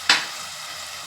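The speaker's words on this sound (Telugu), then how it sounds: "ఇప్పుడు పచ్చిమిరపకాయలు, టమాటాలు, ఎర్రగడ్డలు వేసుకొని బాగా వేయించుకోవాలి బ్రౌన్ కలర్ వచ్చేలాగా" Green chillies, tomatoes and onions dropped into hot oil in a pan for fish curry, giving a single sudden sizzling burst that settles into a steady, soft frying hiss.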